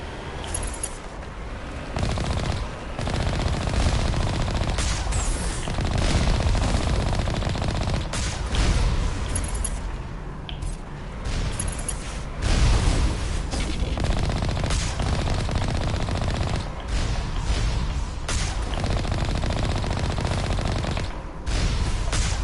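Sustained turret machine gun fire in the video game Mass Effect on Therum, dense rapid bursts with booming impacts, loud and continuous with brief lulls.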